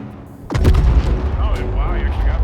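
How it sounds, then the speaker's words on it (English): Loud, close explosion from a bomb drop on a tank in the Star Citizen video game, a sudden heavy boom that rolls into a sustained rumbling roar, with voices talking over it. "Bombs away."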